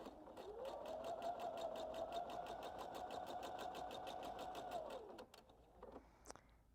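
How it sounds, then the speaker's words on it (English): A sewing machine stitches a seam along a seam allowance on fabric, running steadily and fairly close for about four seconds with a fast, even whir, then stopping and leaving a few small handling clicks. "I'll just start again in the same seam allowance and finish stitching the seam."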